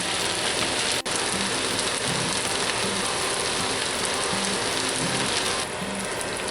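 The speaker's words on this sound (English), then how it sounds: "we're going to let that fry up a little bit" Bacon fried rice with small vegetables frying in a cast iron pan, a dense, even crackling sizzle running steadily throughout, close and unbroken, with no talking.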